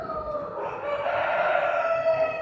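Rooster crowing carries through a fall poultry show, one drawn-out call rising and holding over a faint background of hall noise.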